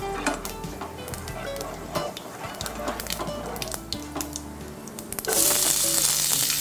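Onions and cumin frying in a pan in a home kitchen give a low, steady sizzle under scattered clinks and scrapes of utensils, then a louder, brighter burst of hissing near the end.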